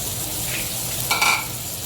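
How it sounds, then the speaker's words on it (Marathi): Mixed vegetables (cauliflower, beans, peas and potato) stirred in a frying pan, a soft steady sizzle with a brief scraping stir near the end, no talking. "आणि सगळं चांगलं मिक्स करायचं"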